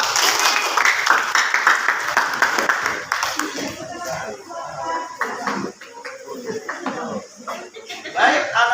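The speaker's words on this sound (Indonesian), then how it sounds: "Tepuk tangan buat kita." A class of children claps together in a schoolroom, loud rhythmic clapping at first that thins into scattered claps and chatter, with children's voices talking and calling out over the later part.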